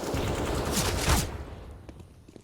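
Rapid bursts of gunfire in Counter-Strike: Global Offensive on the Mirage map crackle loudly in a dense volley, then fade into scattered distant shots.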